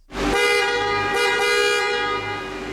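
The horn of a 1995 Ferrari F50, in the centre of the steering wheel, sounds once in a single sustained, ordinary-sounding honk, loud and close, held for a couple of seconds.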